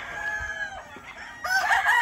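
Chickens cluck steadily at close range, and a rooster's crow rises loudly near the end over the flock.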